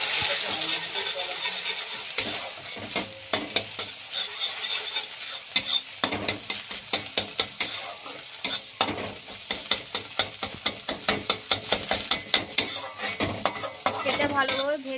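A salted egg fries in hot oil in a pan, a steady crackling sizzle running throughout, punctuated by repeated scraping and tapping from a utensil stirring and turning it, growing more rhythmic toward the end.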